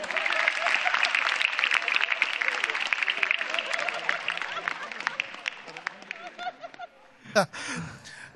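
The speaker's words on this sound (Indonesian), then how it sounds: "Tepuk tangan untuk Jerry dan juga Bonar" A crowd at a stand-up comedy show claps steadily for several seconds with scattered laughter mixed in, then the clapping fades into a short burst of voices near the end.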